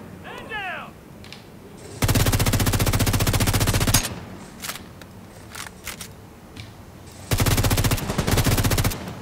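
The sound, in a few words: gunfire in the video game The Division 2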